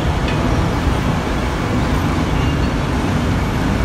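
Road traffic at the jammed Fai Chai intersection in Bangkok, heard from a tall building as a continuous, even roar of engines and tyres with no single vehicle standing out.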